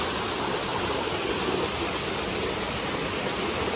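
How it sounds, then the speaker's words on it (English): A steady, broad rush of falling water fills the air, constant and noisy with no breaks or voices. "Look at the waterfall."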